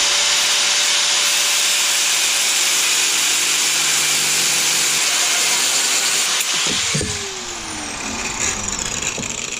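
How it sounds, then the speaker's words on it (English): An angle grinder cuts through a threaded metal bar for a camber arm, a loud, steady high-pitched whine with harsh grinding hiss that shifts and winds down near the end. "So now we're just going to take our angle grinder and cut straight between those threads"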